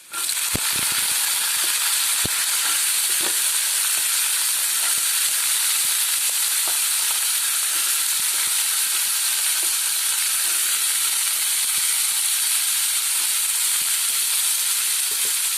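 Chickpeas frying with browned onions in a pan, a loud continuous hissing sizzle that stays even throughout, with faint stirring knocks beneath it and no talking.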